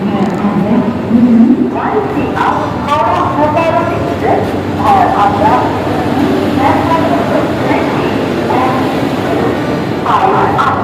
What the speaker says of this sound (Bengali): এখন ঘড়িতে বাজে এগারোটা পঁয়ত্রিশ পুরো রাইট টাইমে আমাদের ট্রেন ছেড়ে দিল হাওড়া থেকে মুম্বাইয়ের উদ্দেশ্যে